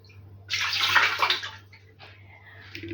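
Liquid poured into a saucepan while making a beetroot salad dressing, a single splashing pour of about a second, close and clear, followed by quieter trickling and a steady low hum.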